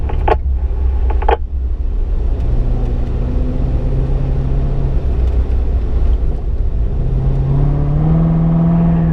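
An automatic car accelerates hard down a track's back straight, its engine droning loud and close in a steady rumble, pitch climbing as it shifts up toward 5th gear and reaches around 119 mph.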